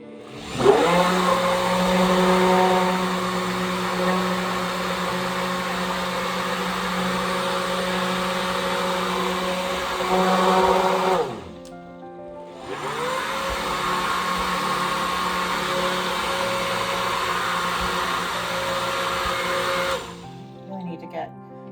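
An electric mixer whirs loudly as it blends soap-making solution with water, running in two long steady bursts separated by a short pause, with no voices.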